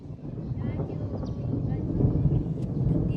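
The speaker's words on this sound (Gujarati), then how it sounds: "જોઈ લો મિત્રો ગાજે છે અવાજ પણ સાંભળી ગયો તમે" Low rumbling of thunder rolls continuously through heavy rain over waterlogged farm fields, a dense, steady roar with some wind buffeting, fairly loud and sustained throughout.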